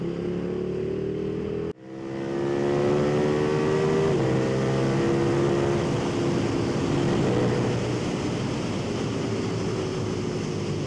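A KTM SuperDuke 1390 motorcycle pulls at full throttle in rain mode on an open road, its engine note climbing steadily and droning loud and close after a brief cut near the start, with heavy wind rush throughout.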